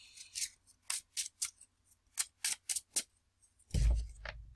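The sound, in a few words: shuffling playing cards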